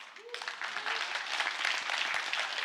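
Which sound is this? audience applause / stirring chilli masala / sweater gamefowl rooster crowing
audience applause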